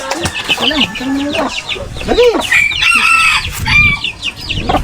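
Hens cluck repeatedly in short bursts, with a rooster's crow mixed in; busy farmyard fowl sounds close by, with some background voices speaking Filipino.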